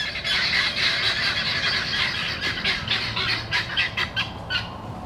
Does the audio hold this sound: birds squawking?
yes